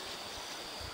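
River water flowing under a bridge, a steady broadband rush of moving water that fills the whole moment, continuous and fairly loud with no voices.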